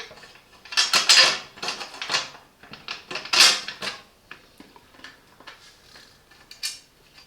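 A screw being driven into a Parkside workbench during assembly: close, irregular metallic clicks, scrapes and creaks come in bursts, with brief quieter gaps and no talking.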